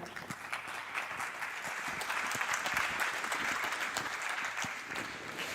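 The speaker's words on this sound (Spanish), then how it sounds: "Un fuerte aplauso para Juan Tomás García." Conference audience at an AI festival in Cartagena applauds a speaker introduced on stage; steady, fairly close clapping sustained throughout with no voices over it.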